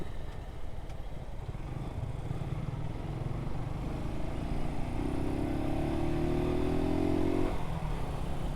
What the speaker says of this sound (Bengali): আজকে বাইক রাইড করতেছে